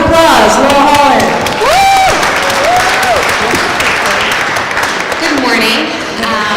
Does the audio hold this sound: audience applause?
yes